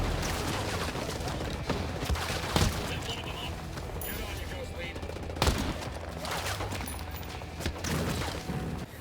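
Rockets and machine gun fire in the Ghost Recon Breakpoint video game: steady dense gunfire with a few louder blasts, continuous battle noise throughout.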